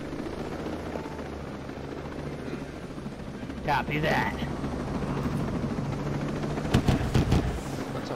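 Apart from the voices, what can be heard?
helicopter flying in a video game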